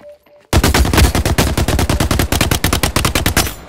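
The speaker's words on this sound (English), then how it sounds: "Where are my bullets going, dude?" Rapid automatic gunfire in the video game The Cycle: Frontier, a loud sustained burst of evenly spaced shots with brief gaps, after a short quiet lead-in.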